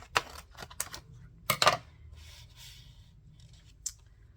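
Scissors snip through paper for a collage, several sharp close cuts in short clusters with quiet pauses between them.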